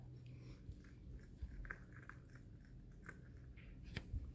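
A puppy chews on things nearby, giving faint, irregular crunching and gnawing bites over a quiet room background.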